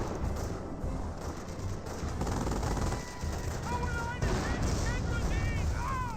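Sustained machine gun fire from an M2 in a Company of Heroes 1 battle, a dense rattling barrage with artillery-like booms running throughout, under a commentator's voice.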